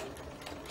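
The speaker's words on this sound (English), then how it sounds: "So we'll put the thread in the needle into the fabric. We'll start sewing." A sewing machine stitches fabric in steady, continuous motorized whirring, close and fairly loud, with no talking over it.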